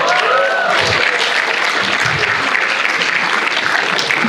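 Audience applause at a DevFest Gandhinagar tech conference talk, a dense steady wash of clapping filling the whole stretch, loud and close with no voices over it.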